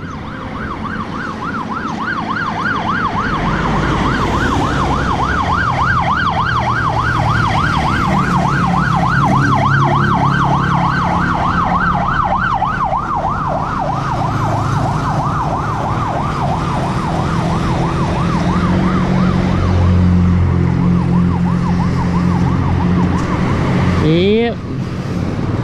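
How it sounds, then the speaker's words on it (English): Loud ambulance siren wailing on a rural road in San Marcelino, Zambales, Philippines, its rising and falling cycle continuous and close over a running car engine, shifting to a slower wail before a brief horn-like blast near the end. "I hear an ambulance coming up."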